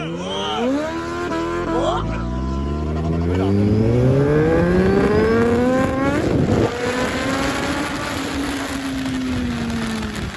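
A heavy motorbike engine is ridden hard, its loud drone climbing and falling in pitch through repeated gear changes and acceleration, close and continuous.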